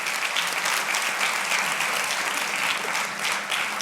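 An audience at a science forum in the Canary Islands applauds botanist Wilfredo Wildpret, a dense, steady wash of many hands clapping at even strength throughout.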